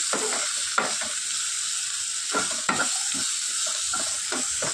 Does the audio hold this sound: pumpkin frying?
yes